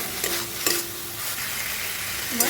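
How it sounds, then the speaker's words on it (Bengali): Fried potato and ridge gourd get stir-fried with masala in a pan, a spatula scraping a few times over a constant close sizzle, no voices. "মিশিয়ে নিচ্ছি মশলার সাথে অল্প করে"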